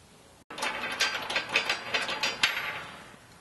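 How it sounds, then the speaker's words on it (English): A ratchet tightens 12 mm bolts on a bellypan skid plate for a Jeep JL 2.0L four-door, giving a close, quick run of clicking bursts for about two seconds before fading out. "Now we will go ahead and install the other 12 millimeter bolt at the side frame."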